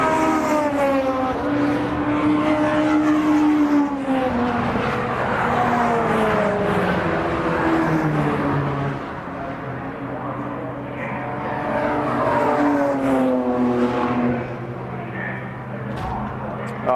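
Race cars circling a club circuit, among them a yellow Renault 5, engines droning and shifting pitch as they pass at mid-distance, with a commentator talking over the steady roar.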